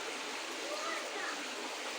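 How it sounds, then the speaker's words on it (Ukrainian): Muddy water of the Inhulets river flows steadily past, a continuous close rushing wash that fills the whole stretch at an even, fairly loud level without breaks. "Бачите, мутна вода посередині біжить."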